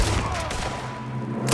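A volley of gunshots rings out in Red Dead Redemption 2, a dense burst of loud overlapping reports at the start and a fresh crack at the end, with ringing echo between.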